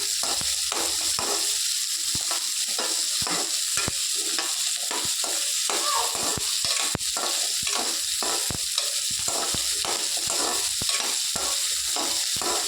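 Onions sautéing in oil for onion chutney, a steady close sizzle broken by regular scraping stirs of a spoon in the pan, no talking.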